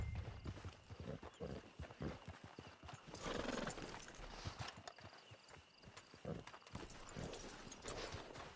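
A horse's hooves clip-clop at a steady walking rhythm, close by, in the Red Dead Redemption 2 video game. A neigh is heard as well, along with in-game voices talking.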